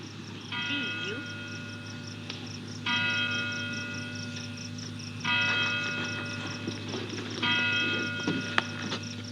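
Big Ben strikes four resonant bell chimes at even intervals of about two and a half seconds, each ringing on into the next, with a low steady background hum beneath them.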